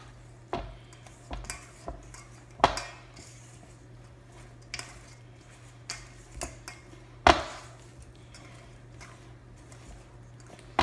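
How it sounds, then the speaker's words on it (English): Brownie batter being mixed in a bowl, with scattered light clinks and taps of a utensil against the bowl over a quiet background, close and fairly soft, with no talking. "mix it up until just combined is what it says"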